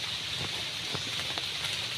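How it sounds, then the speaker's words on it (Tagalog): Steady rain falls outdoors under a darkening sky, a continuous dense hiss with a few sharper drops standing out. "talagang umulan na naman mga kabraso"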